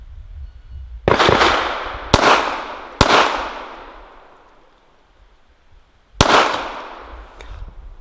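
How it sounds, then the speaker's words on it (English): Four sharp, loud pistol shots from a Walther PPK/S firing 80-grain Colt solid copper hollow point ammunition ring out outdoors, spaced irregularly with a close pair followed by a longer pause, each leaving a fading echo. "Was that an unexpected second shot?"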